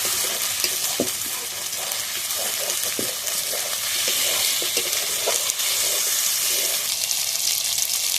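Potatoes and chopped tomato fry with ginger and garlic in a pan for a spicy snail curry, a steady close sizzle broken by repeated stirring scrapes and clinks.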